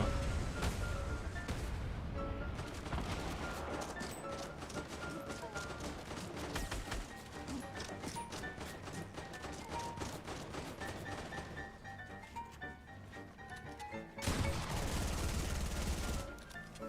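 Rapid bursts of gunfire and grenade blasts in the video game Fortnite, dense and continuous from start to finish, with a voice talking over the shooting.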